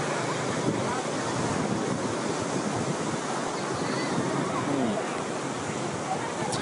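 Evening beach surf at Cha Am, Thailand, a steady loud wash of waves mixed with wind rumble on the microphone, continuous with no clear breaks.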